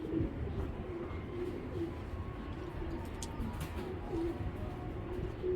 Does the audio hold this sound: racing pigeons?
yes